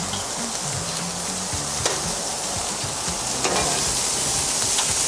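Lamb kebab skewers sizzle steadily on a very hot grill, a dense, even frying hiss with faint crackles and a few brief clinks near the end.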